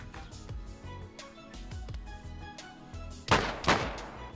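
Gunshots in a DayZ gunfight: several sharp single shots spaced through the clip, then two louder, nearer bursts close together near the end, with no voices.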